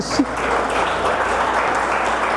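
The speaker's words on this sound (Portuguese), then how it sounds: "Dê uma salva de palmas para Jesus." A church congregation applauds after a call to praise Jesus, a dense, steady wash of clapping that fills the whole short stretch at a fairly loud, even level.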